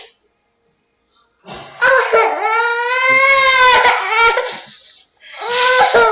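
A young child at home wails in a long, loud, close cry with rising and falling pitch, broken by short sobbing gasps, with a brief pause before the crying resumes.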